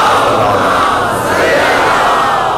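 A large congregation at a Shia majlis in Tando Allahyar, Sindh, recites salawat in unison, a loud, dense chorus of many voices chanting together without pause.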